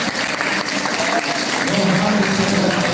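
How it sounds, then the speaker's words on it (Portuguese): Loud, continuous applause fills a church during a live Good Friday Easter cantata, with a dense wash of hands clapping and a low murmur of voices beneath it. "Eu acho que essas palmas poderiam ser mais fortes, meus irmãos."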